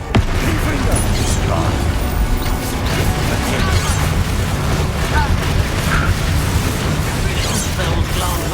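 Confringo fire spell blasts in Hogwarts Legacy combat, a loud, dense barrage of booming, crashing impacts that runs steadily throughout alongside other game noise, with a voice speaking over the fray.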